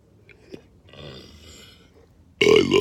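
One loud, deep burp bursts out at the end after a few faint, quiet sounds.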